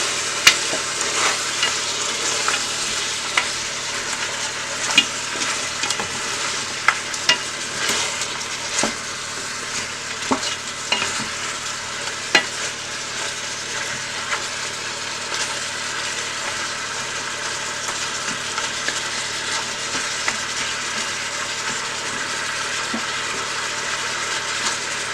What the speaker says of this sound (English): I'm gonna just flip the oxtail so the other side can get brown